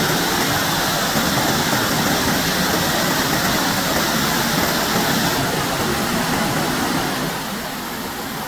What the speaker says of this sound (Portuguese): A cachoeira que dá pra Nascentes Divinas é linda.